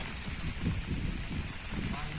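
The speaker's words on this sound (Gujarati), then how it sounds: "વરસાદ ચાલુ થઈ ગયો" Steady rain patters densely on surfaces nearby, a continuous hiss with soft thuds underneath.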